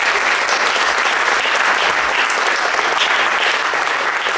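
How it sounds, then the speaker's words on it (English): Loud, sustained audience applause after a jazz ballad at a university spring jazz festival concert, dense clapping close and continuous throughout. "one more round of applause for that"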